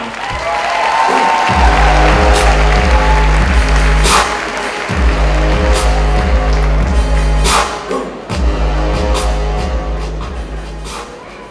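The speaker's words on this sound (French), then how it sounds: "je vais du coup vous demander de faire un tonnerre d'applaudissements pour accueillir le directeur de l'EMLV, Sébastien Tran" A graduation ceremony crowd applauds to welcome the EMLV school director, loud, dense clapping that holds steady with brief dips, over a pulsing low musical beat.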